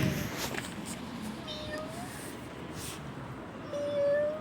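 A cat meows a few times, faint and somewhat distant, over a background hum and low room noise.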